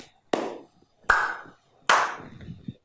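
Three separate claps, each made with four fingers striking the palm of the hand, spaced roughly evenly, close and crisp, with short ringing tails between them.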